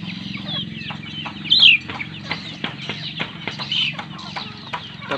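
A junglefowl decoy rooster clucks in a series of short, soft calls, with one louder, sharper call in the middle, close by and without talk.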